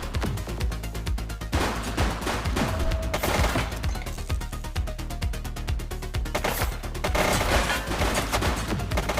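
Video game gunfire in a fast sequence of sharp, loud shots and bursts, dense and close, continuing for several seconds with short gaps.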